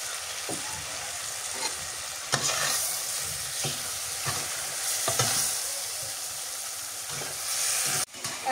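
Pieces of red coral sea fish go into a pan of fried tomato, bringing loud, close sizzling and frying with intermittent stirring scrapes and knocks throughout, no voices.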